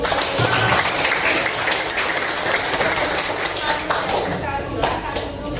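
Teachers applauding in a classroom or meeting room during a teacher peer-observation training session, a short burst of hand clapping mixed with background talk and shuffling.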